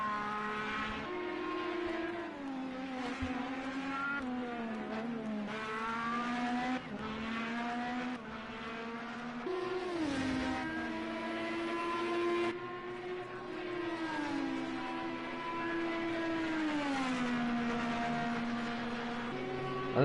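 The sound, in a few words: Indycar race cars driving in video game Project Cars 2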